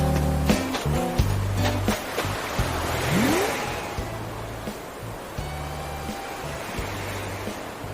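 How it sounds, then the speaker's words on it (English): Ocean waves wash softly on a beach in the Animal Crossing: New Horizons video game, a steady surf wash under repeating tonal game music and a few chimes. "with you hearing more of the ocean while being down there"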